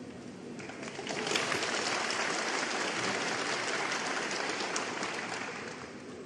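Snooker crowd at the Shanghai Masters cheering and applauding for Ronnie O'Sullivan, a broad wash of clapping and cheers that swells after a second, holds steady, then slowly fades.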